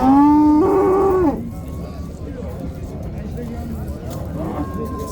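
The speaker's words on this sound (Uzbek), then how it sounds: "Bu sigir." A cow at a cattle market lets out one loud, close, drawn-out moo at the start, followed by market voices and background chatter.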